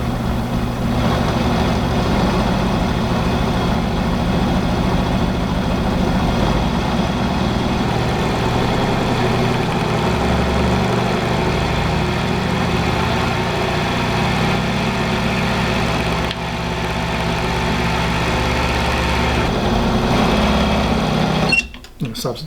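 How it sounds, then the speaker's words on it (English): A speedometer test machine drives a 1946 Ford speedometer cluster with a steady motorized hum and a faint rhythmic whir that holds evenly, then cuts off abruptly with a few clunks at the end. "So what we're going to do now is hook this into the machine, and we're going to run it"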